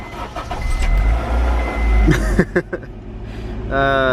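A car's turbocharged Honda D16Y8 single-cam engine, started with a key, cranks and catches, then settles into a steady idle, heard up close with a few clicks and clunks along the way.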